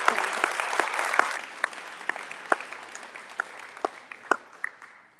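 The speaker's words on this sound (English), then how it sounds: "Please give a round of applause for" An audience applauds a youth representative at a district community event, with dense clapping at first that thins into scattered individual claps and fades over a few seconds, with no talking.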